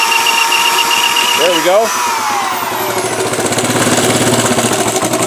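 A 1973 Honda ATC70 three-wheeler engine cranks, sputters and catches on choke, then settles into a rapid, uneven small-engine putter close by, with a person speaking briefly over it.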